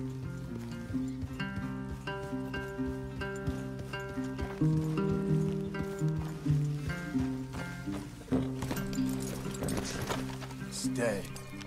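Horse hooves clip-clop in the Red Dead Redemption 2 video game, a quiet steady walking rhythm beneath layered orchestral game music, with characters talking over it.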